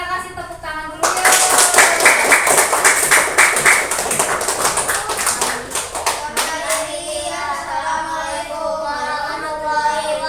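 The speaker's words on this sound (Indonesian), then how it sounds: "Kita kasih tepuk tangan dulu ya" A classroom of children claps for a group's performance, a dense burst of close hand clapping that tapers into scattered claps over chatter and young voices.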